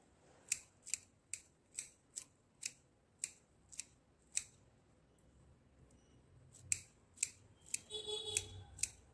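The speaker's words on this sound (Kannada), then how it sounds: "ಸೀಸರ್ಸಲ್ಲಿ ಕಟ್ ಮಾಡ್ಕೊಳ್ಳೋಣ." Scissors snipping coriander leaves, a series of crisp close clicks in a steady rhythm with a short pause, then a quick flurry of cuts at the end.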